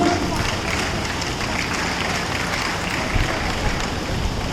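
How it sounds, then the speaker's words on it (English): Audience applause honoring a senior table tennis champion, a continuous broad roar of many hands clapping at steady volume throughout, sounding fairly distant and diffuse. "huge round of applause for such brilliant excellence"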